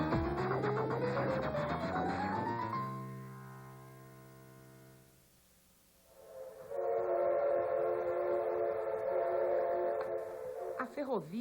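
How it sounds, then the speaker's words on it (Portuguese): Early steam train arriving in São Paulo from Santos, a horn or whistle sounding over rolling rail noise, fading away and then returning with a loud sustained tone over rumbling wheels. "Chega o primeiro trem procedente de Santos."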